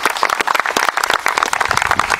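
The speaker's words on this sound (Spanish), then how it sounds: "Un aplauso para él." Crowd applause for Comandante Chávez at a popular assembly held in a community social battle room in Archuna: dense, steady clapping from many hands, loud and close, filling the whole moment without voices.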